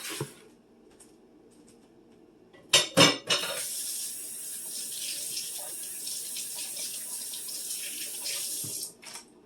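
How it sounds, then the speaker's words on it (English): Hands are rinsed under a running kitchen tap: a brief clatter of dishes, then a steady splash of water into the sink, fairly close and moderately quiet. "I'll rinse my hands."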